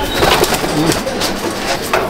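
Kalanka pigeons in a loft coo in soft repeated low calls close by, with faint voices underneath.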